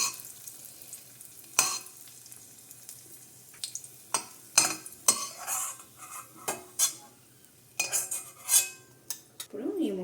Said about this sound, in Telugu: ఇందులో కొన్ని బ్లూ కిస్మిస్లు కూడా వేసి ఇవి కొంచెం ఉబ్బే వరకు ఫ్రై చేసుకోవాలి.